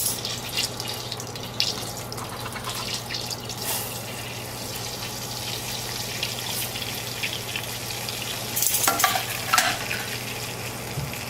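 Butter and cornstarch stirred together in a metal saucepan over medium heat, a steady close sizzle with a continuous low hum and brief scraping bursts near the end.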